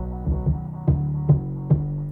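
Hip-hop beat with its 808 bass run through an SPL Transient Designer Plus plugin by Plugin Alliance, giving a sustained low throb punctuated by three or four sharper, harder-hitting attacks at steady intervals, no talking.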